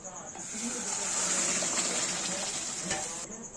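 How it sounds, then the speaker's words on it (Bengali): Potato curry poured into hot tempering in a pan for white potato curry, a loud rush of sizzling that swells and stirs for a few seconds before cutting off abruptly. "আলু চচ্চড়িটা যেটা আমরা পাত্রের মধ্যে ঢেলে রেখেছিলাম সেটা আমরা এর মধ্যে ঢেলে দেবো"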